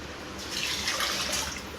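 Water is poured into rice in a pot for cooking a rice and lentil dish. The pour is a steady, close, hissing splash that swells slightly in the middle, with no talk.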